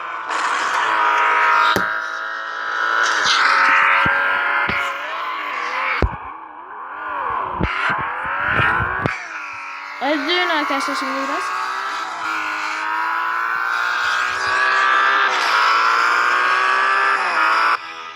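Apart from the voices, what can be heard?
car engine in a racing video game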